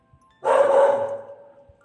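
Dogs barking at a home, a single loud burst of barking lasting about a second that trails off, with no talk.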